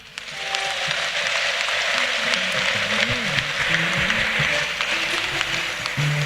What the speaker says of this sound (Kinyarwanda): Uwumva Imana yaragize neza nayikomera amashyi.